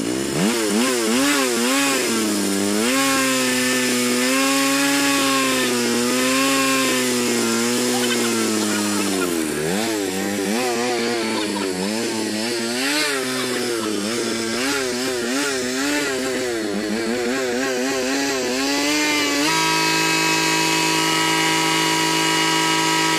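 A motorbike engine idles and revs to burn off the last petrol left in its carburettor, with a loud, close, continuous buzzing note that swoops up and down repeatedly before settling into a steady idle.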